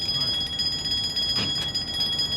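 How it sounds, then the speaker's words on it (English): An electric alarm bell rings steadily at a house during a suspected burglary, a continuous high metallic tone that holds throughout, with faint background noise beneath. "An alarm bell is ringing at 102 McFarren Road."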